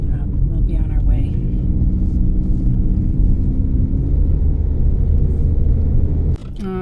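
Steady car road noise on the last stretch of a drive to the North Terminal at Hartsfield-Jackson Airport in Atlanta: a continuous low rumble of engine and tyres for several seconds, then an abrupt drop in level just before the end.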